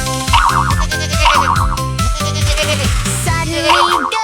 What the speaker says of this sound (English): Boing, boing, boing. Jump, jump, jump all day long.